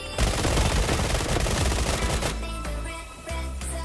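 Double pistols fire in rapid, dense bursts in BGMI (PUBG Mobile), a loud clattering volley lasting a couple of seconds, followed by a few scattered single shots and lingering game ambience.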